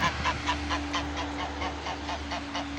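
A domestic goose sitting on eggs in a farmyard nest gives a run of soft, rhythmic honking calls, repeated steadily at close range over a low background hum.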